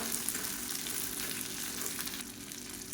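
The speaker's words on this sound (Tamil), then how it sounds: "இது வெங்காயம்லாம் நல்லா கலர் மாதிரி வதங்கட்டும்." Onions and garlic frying in a pan give off a soft, even sizzle and crackle that stays faint and close for a few seconds, with no talking.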